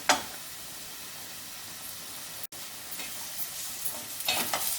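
Onions frying in a pan with steady, even sizzling that runs throughout, and brief scraping bursts from stirring at the start and near the end.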